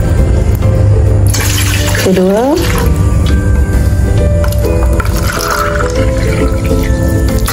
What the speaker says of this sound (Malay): kemudian saya tambah lagi 4 cawan. 4 cawan ataupun 4 kotak air biasa.